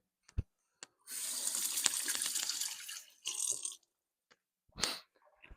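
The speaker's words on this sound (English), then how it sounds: "Let me give my hands a rinse." A kitchen faucet runs as hands are rinsed beneath it, a close hissing splash lasting about two seconds, followed by a shorter burst of water and a few brief clicks and drips.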